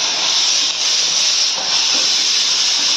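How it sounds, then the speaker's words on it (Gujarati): A pressure cooker whistles while sambar cooks, a loud continuous high steam hiss that holds for the whole stretch with only slight dips. "સંભારની સીટીઓ વાગે છે."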